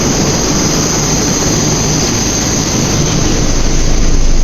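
A Moscow metro train runs at night with a loud, continuous roar and a steady high-pitched whine holding throughout, close and unbroken.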